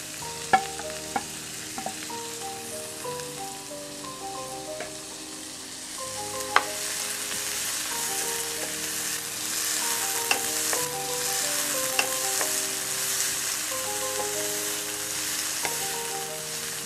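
Small shallots, green chili, curry leaves and tomato sauté in a pan for Malabar-style mani puttu, a steady close sizzle with scattered stirring scrapes and clinks running throughout, no voices.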